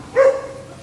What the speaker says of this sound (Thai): ไอจิ๋วมันเห่าเหรอ